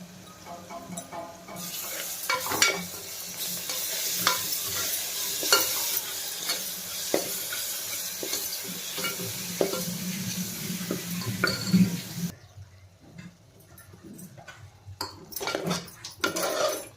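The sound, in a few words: garlic, ginger and coriander stirred in hot oil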